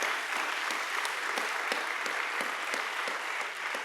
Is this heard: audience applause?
yes